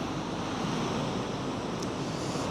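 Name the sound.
ocean waves on a beach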